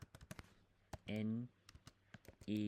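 Keys clatter on a computer keyboard as a word is entered, giving a few quick, fairly faint clicks woven between stretches of a teacher's speech.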